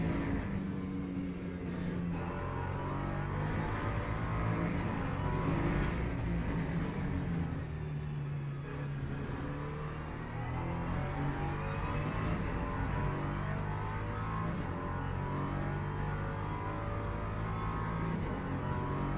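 LMP2 prototype race car at Circuit of the Americas during a multiclass endurance event, a steady loud engine roar with shifting harmonic bands as it approaches and sweeps through, sustained throughout without pause.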